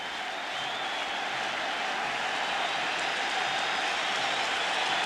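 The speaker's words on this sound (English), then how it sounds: "with 2 strikes, they stand on their feet cheering for the strikeout" A packed Yankee Stadium crowd at the 1996 World Series stands and cheers for a two-strike strikeout: a steady, dense roar of applause and cheering that holds for several seconds, with no talk over it.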